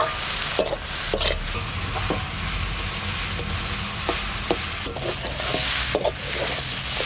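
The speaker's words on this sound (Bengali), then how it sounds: "শাক ভাজা হয়ে গেছে," Leafy greens fry with salt and turmeric in a loud, dense sizzle, while a spatula stirs and knocks against the pan in a regular rhythm close by.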